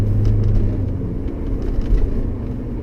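A Porsche 928 S4 cruising, its engine a steady low rumble with road noise heard from inside the car, fairly loud and even throughout.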